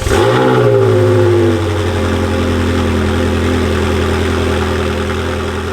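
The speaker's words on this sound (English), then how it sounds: "Here's a little cold start for you." Ferrari 360 engine firing up on a cold start: a loud, close rev flare for about a second and a half, then settling into a steady, high, rough idle that drones on alone.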